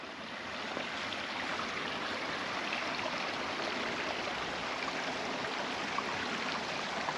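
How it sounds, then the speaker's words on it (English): Small creek running through Zion National Park, a steady, soft rushing and babbling of water that continues evenly from start to end without voices. "Beautiful little creek running through."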